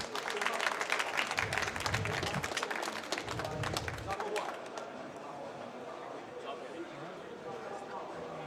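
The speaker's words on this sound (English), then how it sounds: "give an applaud to Mr. Walrus" Audience applause at a speedrunning charity event, dense clapping for about four seconds before fading into quieter room noise and faint chatter.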